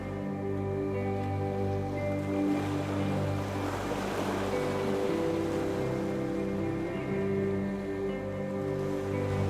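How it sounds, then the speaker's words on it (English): Ocean waves crash over rocks on a UK island shore, a loud surge of rushing water building in the middle over a steady low drone, with no speech. "I've also got the waves just crashing in the foreground"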